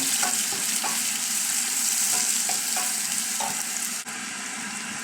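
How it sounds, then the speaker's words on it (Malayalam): Onions and green chillies sautéing in a pan for chicken curry: continuous loud sizzle with occasional scrapes of a stirring spoon, close up and steady throughout. "നമുക്ക് നന്നായിട്ട് അങ്ങോട്ട് വഴറ്റിയെടുക്കാവേ"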